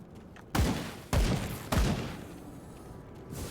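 Alien gunfire in the video game Earth Defense Force: three sharp, booming bursts spaced about half a second apart, each trailing off in a rumbling decay, fairly quiet overall.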